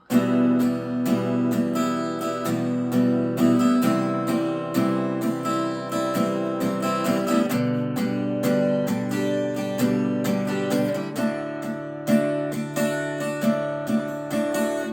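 An acoustic guitar strums chords in a steady, driving rhythm for the whole stretch, close and full, with the chord changing every few seconds.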